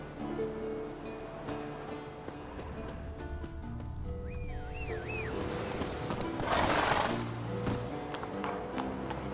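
Horse hooves clip-clop steadily while riding in The Witcher 3, with a neigh near the middle, all set over layered game music and ambient wind and rustling.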